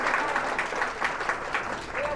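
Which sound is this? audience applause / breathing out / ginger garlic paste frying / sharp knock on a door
audience applause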